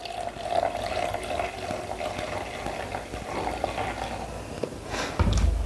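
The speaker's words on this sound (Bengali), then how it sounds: "ডবল পরিমাণে জল নিলাম এখানে" Water trickles and splashes steadily as it is poured into liquid handwash to thin it, a close, continuous pouring sound ending with a soft thump.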